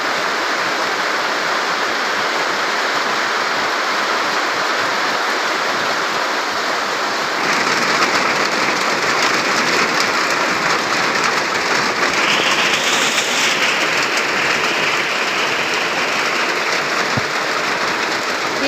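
Rain falls on a farm field in Laos while the ground is being prepared for rice sowing, a steady broadband hiss that grows louder and heavier partway through, with no talking.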